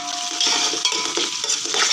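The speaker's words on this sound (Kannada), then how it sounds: "ಇದನ್ನು ಚೆನ್ನಾಗಿ ಕೆಂಪಾಗೋವರೆಗೂ ಹುರ್ಕೊಳ್ತೀನಿ" Onion and half a tomato fry in a pan for mutton biryani, a close, continuous sizzle broken by the scrape and clink of a stirring spoon.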